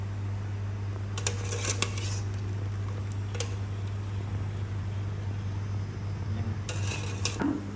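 Boiled canned fish is scooped from a pot of fish curry broth, with a few metallic clinks of a utensil against the pot over a steady low hum, the clinks clustered near the start and again near the end.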